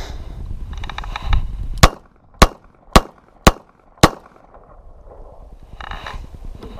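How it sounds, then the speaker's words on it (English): Five sharp gunshots from a snub-nose revolver fired at a target 30 feet away, evenly spaced about half a second apart, loud and close, with outdoor wind noise and faint rustling before and after. "with a convulsive grip, put 5 rounds in the center of his chest whenever you're ready"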